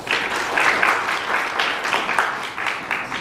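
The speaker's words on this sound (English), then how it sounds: "please welcome and give a round of applause for our first speaker, Sukasah Syahdan." A seminar audience in Jakarta claps to welcome the first speaker, with a brief burst of steady clapping from a room of people that stays fairly even and close.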